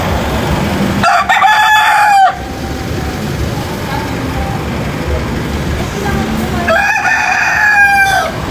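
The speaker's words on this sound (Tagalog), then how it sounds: "may nakita kaming manok dito sa stopover" A chicken at a roadside stopover on a road trip from Manila to Baguio crows twice, once early and again near the end, with clucking between, close by over steady traffic and outdoor ambience.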